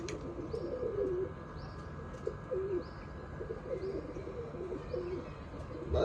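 Pigeons coo repeatedly in soft, rolling calls at a steady rhythm, close by, over a quiet background hum.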